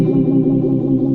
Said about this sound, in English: that's not dynamic clean because you've got delay, you've got reverb, you've got all kinds of stuff going on there